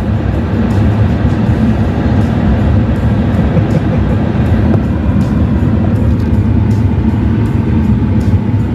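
A train rumbles past close by in Edmonton, Alberta, a steady heavy low roar with clattering wheels that holds loud and unbroken throughout.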